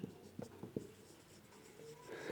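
Chalk or marker writing an example on a classroom board: a few quick tapping strokes and short scratches, faint and close, with a low room hum underneath.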